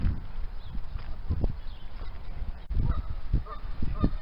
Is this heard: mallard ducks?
yes